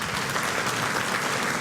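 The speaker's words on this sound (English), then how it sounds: "Sir, come on, big round of applause." Sustained, dense applause from a conference audience at an Arabian horse racing forum in Madrid, a steady wash of many hands clapping at full volume throughout, no voices on top.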